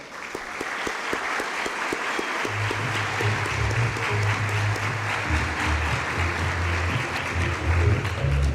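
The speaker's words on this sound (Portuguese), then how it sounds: "Vamos receber com aplausos." An audience at a scientific research congress applauds as a physics professor is welcomed to the stage, steady massed clapping throughout, joined midway by a low droning tone underneath.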